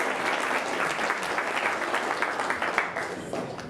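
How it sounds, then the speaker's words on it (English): A crowd at a Pi Day gala in Lawrence, Kansas gives a sustained round of applause, even and full, with scattered individual claps poking through the steady roar. "A big round of applause for Vanna Carroll Merrill"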